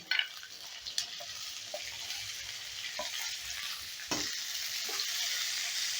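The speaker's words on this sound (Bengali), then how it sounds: "এবার এই ভেজিটেবলগুলোকে আমি দু মিনিটের মতন নাড়াচাড়া করে নিচ্ছি মানে একটু নরম করে নিচ্ছি" Chopped capsicum and beans being stir-fried in a pan give a gentle, continuous sizzle. Occasional scrapes and taps of a spatula stirring the vegetables sound up close, with no one talking.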